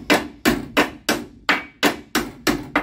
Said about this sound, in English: You just have to hammer those out.